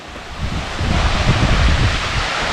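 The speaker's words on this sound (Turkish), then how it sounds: "İkinci rotamız olan Su çıktı köyü, Su çıktı şelalesi burası." Rushing water at the Suçıktı waterfall, heard as a loud, steady broadband roar filling the whole clip with no voices.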